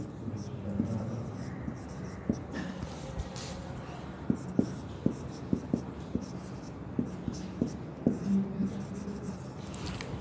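A pen or marker writes out a spelling on a board or paper, soft scratchy strokes broken by small sharp taps through the middle, close and quiet over a faint room background.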